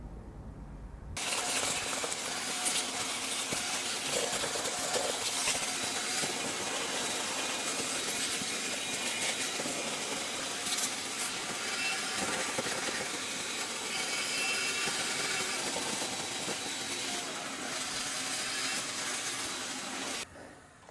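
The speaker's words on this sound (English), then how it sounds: "as I'm vacuuming up tons and tons of leaves down over here" A vacuum hose sucks up masses of dry leaves from under the cowl of a salvaged BMW F30, a continuous loud rushing roar with rustling, clattering debris, starting abruptly and running steadily until it winds down.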